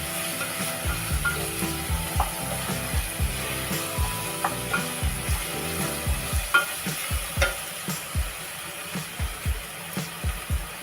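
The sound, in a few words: chopped tomatoes frying in a pan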